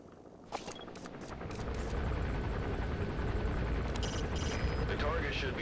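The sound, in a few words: helicopters approaching in a video game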